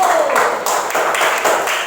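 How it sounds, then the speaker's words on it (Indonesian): Classroom students clap for a presenting group, a dense burst of hand claps filling the short span with voices mixed in underneath. "Silakan kita beri tepuk tangan untuk kelompok 1."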